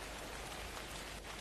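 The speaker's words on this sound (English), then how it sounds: "It's raining. Again." Rain falls steadily in the video game Ark Survival Evolved, a constant soft hiss of drops with no voices.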